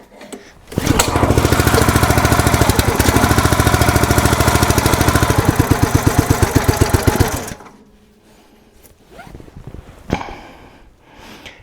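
Predator 212cc engine on a 30-ton dual-action log splitter runs loud and close with a fast steady rhythmic chugging after a choke adjustment, then cuts off abruptly, leaving quiet handling noises.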